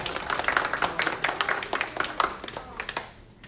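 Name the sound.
applause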